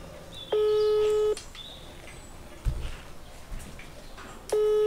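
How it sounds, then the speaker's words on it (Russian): A phone call being placed: a short burst of dialing tones, then a long steady ringback tone, a quiet gap with faint clatter, and the ringing tone starting again. "Звоним Алану"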